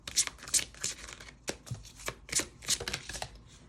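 Tarot cards being shuffled at close range, a run of crisp riffling and slapping bursts in an uneven rhythm, with no talking over them.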